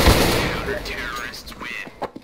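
Counter-Strike: Global Offensive gunfire opens loud and dense, fading into scattered shots and game effects while a player talks over it.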